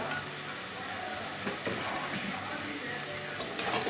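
Fish-head and papaya ghonto with garam masala is stirred in a pan over low heat, giving a gentle continuous sizzle with soft scraping strokes and a couple of light metal clinks near the end.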